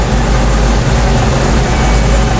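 A Dodge Challenger Hellcat engine, boost removed and run naturally aspirated, idles loudly up close, a steady deep rumble with an even, unbroken drone the whole way through.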